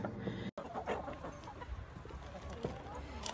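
Chickens cluck close by in short, irregular bursts over faint background noise, with a brief dropout near the start.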